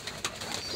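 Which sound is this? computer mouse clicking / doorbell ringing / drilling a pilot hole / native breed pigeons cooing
native breed pigeons cooing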